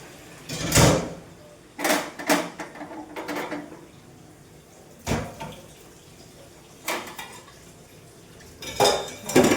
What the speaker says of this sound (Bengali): এখন এই গ্যাসটা একটু মুছবো, আর কড়াইগুলো ধোবো।